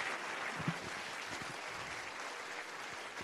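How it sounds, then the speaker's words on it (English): Applause for the local chairs fills a conference hall at the UIST 2016 closing session, a steady crowd clapping at moderate volume that carries on for a few seconds with no speech over it. "So big applause to local chairs, Daisuke and Masa."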